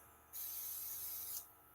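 A spray gun lets out a single hiss of about one second, starting and stopping abruptly against a quiet background.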